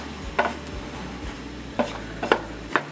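Sliced Granny Smith apples with nutmeg stirred in a pan, several distinct close scraping strokes of a utensil over a faint sizzle, without talk.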